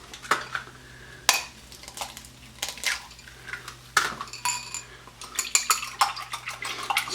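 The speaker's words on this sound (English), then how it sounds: "Crack our eggs." Eggs are cracked into a small pan on a stovetop and whisked, giving sharp close taps followed by a run of quick scraping and clinking strokes against the pan, with no voices.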